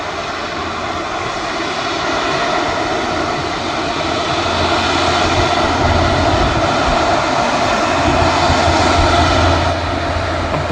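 An airliner arriving at Manchester Airport: its engines make a loud, steady, continuous roar close by, with no other sounds.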